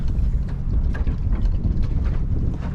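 Wind buffets a microphone aboard a boat anchored in choppy water, a steady low rumbling roar with irregular gusty bursts and faint splashing throughout.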